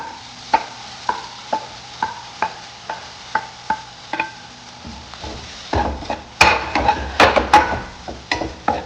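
Vegetables and tomato sauté in a pan for chapati noodles, a regular rhythm of wooden stirring knocks over a low sizzle, then busier scraping and clattering strokes toward the end, close and with no talk.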